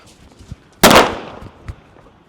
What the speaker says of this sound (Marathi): ए सरका कडला मोठा फटाका आहे बर का